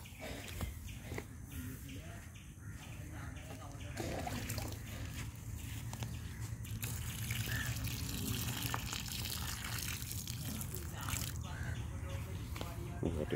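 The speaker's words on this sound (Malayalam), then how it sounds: "ഇത്തിരി വെള്ളം ഒഴിച്ചു" Water poured by hand onto a freshly planted tissue-culture plantain in an outdoor garden, a faint trickle and splash under a voice talking, with a bird calling in the background.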